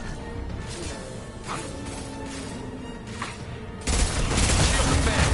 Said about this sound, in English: Hostile! Firing a high-impact shot!